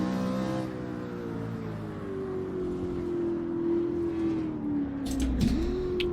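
A race car engine in Assetto Corsa on the 1963-1966 Greenwood Roadway, a technical circuit, drones steadily in low gears and then drops pitch as it downshifts into a corner, loud and close with no talk.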